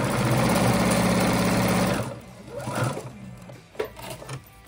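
Sewing machine stitching elastic onto a cotton face mask, a loud, close, continuous whirring run that stops after two seconds, followed by a few short bursts and handling clicks.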